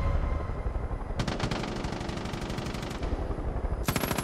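Rapid automatic gunfire from the video game Far Cry 5 rattles in loud, close bursts, two long sustained volleys separated by a brief pause, over a steady game background.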